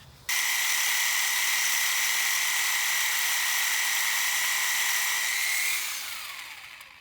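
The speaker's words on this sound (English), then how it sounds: "used a reciprocating saw to cut off the top of our pipe where the bad threads were" A reciprocating saw cuts through the top of a well pipe to remove bad threads, giving a loud, steady high-pitched buzz that holds for several seconds, then fades out as the cut finishes.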